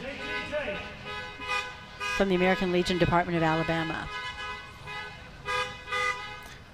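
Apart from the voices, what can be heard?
car horns honking at Veterans Day event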